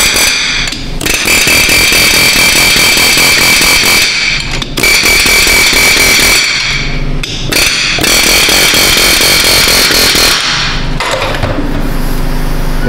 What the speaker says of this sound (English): We're going to do a little toot with the air hammer here.